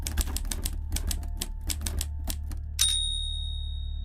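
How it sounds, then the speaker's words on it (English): An old-fashioned typewriter clatters out a rhythmic run of sharp metallic key strikes, close and clear, then a bright bell dings and rings out to finish the line. "it was a deep, rhythmic metallic tapping, the unmistakable sound of an old-fashioned typewriter"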